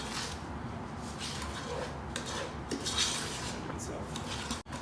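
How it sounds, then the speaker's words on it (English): Two cold, large white eggs are whisked together in a bowl, giving a steady, close rattling and scraping of utensil against the bowl that runs continuously throughout. "we're going to add 2 cold, large white eggs. And again, we're going to mix these to combine."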